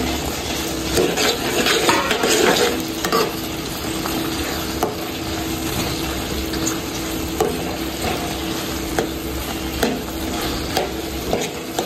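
Soybean chunks stirred into thick, reduced gravy for soya chilli, a steady sizzle under continuous scraping and stirring with occasional utensil clinks against the pan, close and moderately loud throughout with no talking.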